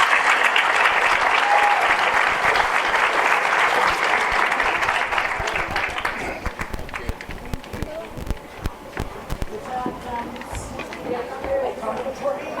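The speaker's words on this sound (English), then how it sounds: "Let's give these players a huge round of applause for an unforgettable season." Loud, dense applause for fall sports players at a high school awards ceremony, sustained for about six seconds before thinning into scattered claps with faint talk underneath.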